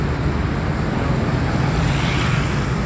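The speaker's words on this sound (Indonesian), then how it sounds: "Tampak bus GMS, bus pribumi asli dari Wonogiri." A GMS bus from Wonogiri passing by on a road, a steady loud broadband engine and road roar throughout, with no talk.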